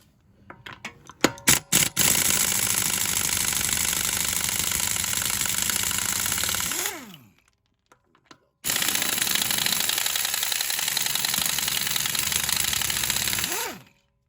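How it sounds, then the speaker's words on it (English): Air impact wrench with a 22-inch socket removing front wheel lug nuts on a Pontiac G8, in a few sharp bursts and then two long, loud, continuous runs separated by a brief pause. "my little air tool with a 22-inch socket on there"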